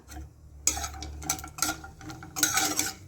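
Homemade matar dal bori fry in mustard oil, heard as close stirring scrapes and utensil clinks in short bursts over a faint sizzle and low hum.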